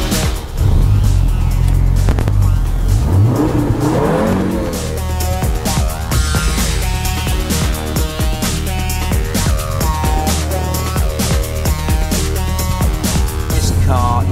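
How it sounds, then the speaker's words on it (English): Audi Quattro concept car revving and driving, a loud, sustained engine roar with rising and falling revs, gear changes and brief tire noise throughout. "Fire up the Quattro. Listen to this."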